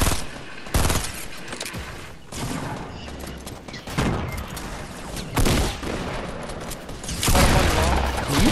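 Bursts of Fortnite gunfire: rapid loud volleys and single shots crack in clusters throughout, with brief lulls between, while players shout over the action.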